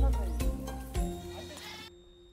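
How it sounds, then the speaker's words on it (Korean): Black goats bleat on a mountainside of a herb-covered island in Jeolla, with several loud, close bleats in the first two seconds and then a steady hum. "흑염소들은 아침 10시면 올라와 해가 지기 전까지 산에서 지낸답니다."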